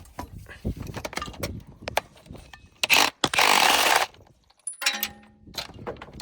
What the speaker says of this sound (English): Spark plugs out of here. My little gun here.